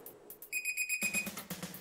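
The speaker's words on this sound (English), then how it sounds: "there's gonna be a hell of a lot of beeps now." Several sharp electronic beeps from the drive switch mod buttons on an Amiga 500, a short series of close, high tones that gives way to clicky button presses and handling noise.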